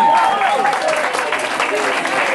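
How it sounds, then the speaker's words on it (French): Audience at a 25th-anniversary celebration in Montréal applauds steadily, a full and even wash of clapping with a few faint voices mixed in. "Je voudrais qu'on applaudisse Touré, mesdames, messieurs"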